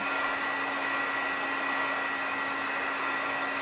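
A hair dryer blows steadily at close range to dry something wet, a constant whirring rush with a high whine that never changes over the few seconds.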